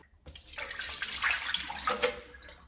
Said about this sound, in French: on va aller vider ça à l'évier